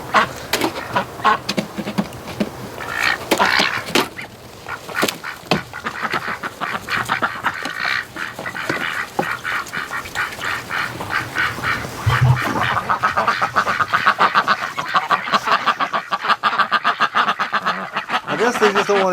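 Ducks quack outdoors in snow and cold wind, the calls repeated and overlapping, some near and some farther off, with geese honking now and then and a person speaking at times.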